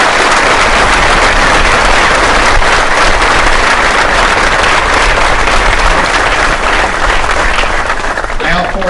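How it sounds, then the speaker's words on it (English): Sustained, loud applause from a large audience for serving soldiers, during a speech by Kentucky Governor Beshear: a dense, steady roar of many hands clapping that fills the whole stretch without pause. "I'd like for us to give a round of applause to those that are serving right"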